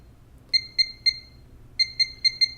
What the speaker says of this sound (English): if I were to jerk at this setting, it will beep at me with the jerk alert